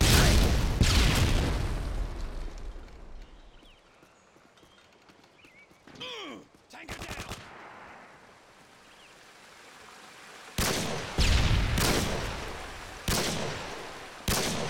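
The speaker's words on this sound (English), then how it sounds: "Tossing stun grenade." A stun grenade going off in a Call of Duty match, a sharp blast followed by ringing, with later bursts of gunfire and faint background speech.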